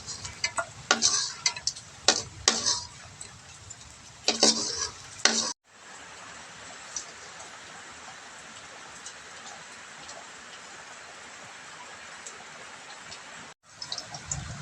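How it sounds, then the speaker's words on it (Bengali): Lentil fritters (bora) fry in hot oil in a wok, a steady soft sizzle after several sharp clinks and stirring knocks at the start, close up with no talking. "এবার আমি বড়াগুলো ভেজে নেব কড়াই দিয়ে দিয়েছি"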